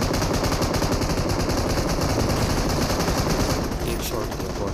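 Rapid automatic gunfire in the battle royale game BGMI, a dense, loud burst of shots running nearly continuously before easing slightly at the end, with a faint voice underneath.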